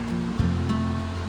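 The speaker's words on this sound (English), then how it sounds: "There's another view of the waterfalls." The McCloud River waterfall near Mt Shasta, California, pours in a steady, broad rushing roar, heard briefly and without pause.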